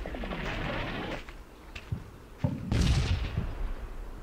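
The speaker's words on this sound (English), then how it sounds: "now they're bombarding me up there" Artillery bombardment in the WWII strategy game Combat Mission: Rome to Victory, heard as several heavy thuds and booming impacts over a steady rumble, the loudest blasts clustering near the end.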